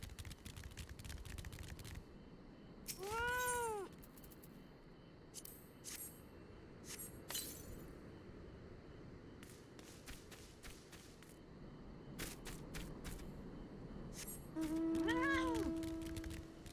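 Cat meowing in a video game, two short rising-falling meows a few seconds apart against soft ambient game sound and footstep-like taps, with a faint tonal hum near the end.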